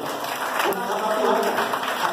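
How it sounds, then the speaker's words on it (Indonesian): A church audience claps for Jesus during a sermon, a steady wash of applause at moderate loudness mixed with a voice talking over it. "Tepuk tangan bagi Yesus"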